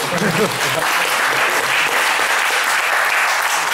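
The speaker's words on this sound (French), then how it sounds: "Ah, l'applaudir." A conference audience gives a speaker sustained applause, a dense, even roar of many hands clapping close by and holding steady throughout, with a faint voice beneath it at the start.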